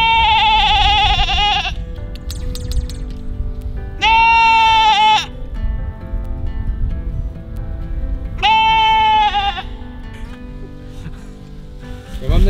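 A goat on a farm bleats loudly three times in long, strained, wavering calls, close by, with quieter barnyard noise between the cries.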